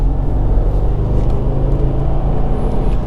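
A 2020 Subaru WRX with a manual gearbox accelerates, heard from inside as a loud, steady low engine drone and road rumble, with no voices.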